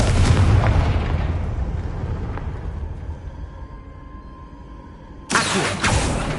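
Confringo blasting spell exploding in Hogwarts Legacy, a loud, deep booming blast that rumbles and slowly fades, followed by a second sharp burst near the end.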